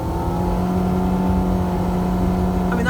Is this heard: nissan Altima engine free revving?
yes